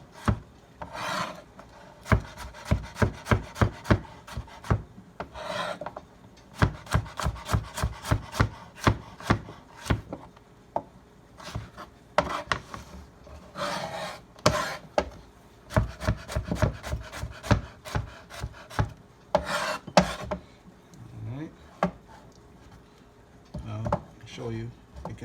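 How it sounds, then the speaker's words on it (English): A knife cuts food into strips on a cutting board, making rapid runs of sharp, close tapping chops broken by short pauses, with some brief talking mixed in. "We're going to cut them up pretty much into strips."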